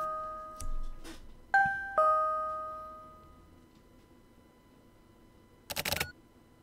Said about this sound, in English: And I ring the doorbell.